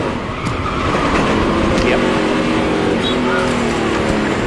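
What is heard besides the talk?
race car locking up rear brakes, Zippo 200 race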